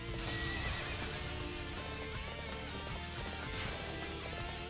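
A horse whinnies and neighs loudly in a video game, backed by clip-clop hoofbeats and dense game music and effects throughout, with no talking.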